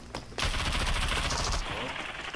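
Rapid automatic gunfire from a 6v6 team deathmatch in the video game Rogue Company rattles in a dense, continuous burst for over a second, loud and close, then tails off into quieter background game noise.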